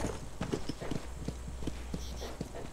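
Hooves of a horse clip-clop on the ground in the video game Red Dead Redemption, a steady walking rhythm of soft, evenly spaced thuds over a low ambient hum, fairly close and moderately quiet.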